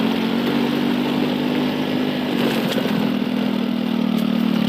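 A modified automatic scooter engine hums steadily at close range while hauling a load of red bricks along a narrow path beside a ravine, its tone even and continuous with a brief rise midway.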